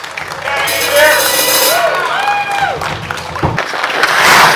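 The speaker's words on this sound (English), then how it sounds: "Big round of applause." An audience on the Rockin' Hockey Show applauds a guest with steady clapping, scattered whoops and cheers, and voices mixed in throughout, swelling again near the end.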